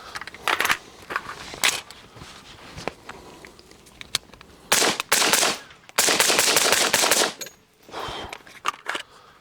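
A rifle fitted with a Surefire RC2 suppressor fires into dirt in uneven bursts and single shots, each a loud muffled crack with a gassy hiss and spatter of impacts, separated by short quiet gaps.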